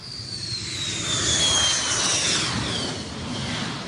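Pakistan Air Force Mirage and F-7 fighter jets taking off from a motorway, a loud, steady jet roar with a rising whine that swells in the middle and holds throughout, no voices.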